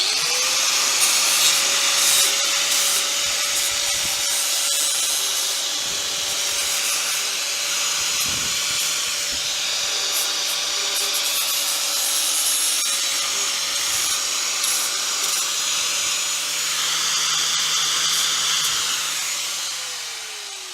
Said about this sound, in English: finish it up with a flat disc, just to get rid of all the burrs